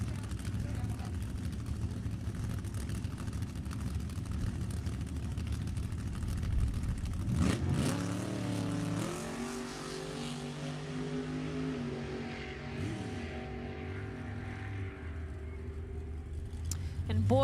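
At Sacramento Raceway, Boyd's Oldsmobile with a Dart 540 engine and Doug's Fairlane with a 632 cubic inch Ford race in an index event. Low rumbling builds into a loud engine roar partway through, with rising pitch as the cars pull away, and a voice talks throughout.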